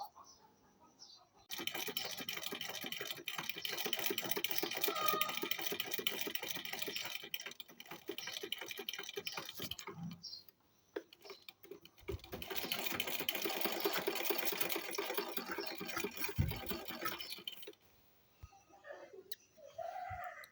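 Sewing machine double-stitching the seam of a salwar, two long runs of rapid close clattering separated by a short pause, followed by faint handling sounds at the end.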